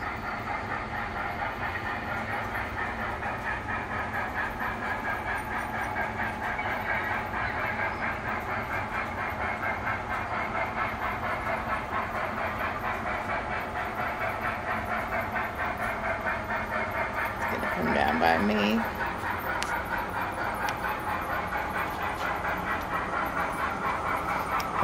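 A model railroad train runs steadily along its track as a constant rolling hum and hiss, with a brief clatter partway through and no talking.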